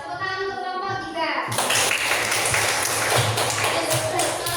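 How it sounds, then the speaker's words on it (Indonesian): A classroom group of trainees breaks into applause for group 3, a dense burst of many hands clapping that starts suddenly after a brief tonal voice-like sound and keeps going loudly to the end. "tepuk tangan untuk kelompok 3."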